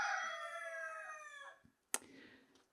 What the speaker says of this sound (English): So the roosters agree.